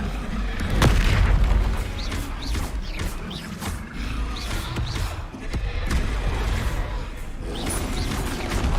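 Bombarda spell explosions in the Hogwarts Legacy video game boom in a heavy burst near the start, followed by scattered thuds and pops amid ongoing battle noise, with someone speaking briefly over it.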